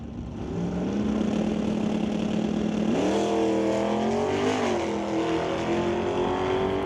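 Drag racing car at a national open series event, a loud continuous engine drone that holds steady, then surges and rises in pitch as it launches and hauls down the track.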